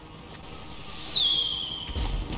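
A firework in an online video game whistles upward with a long falling tone, then thumps low near the end, heard alone at moderate loudness.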